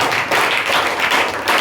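Audience clapping, a brief, dense and loud burst of applause with no talk.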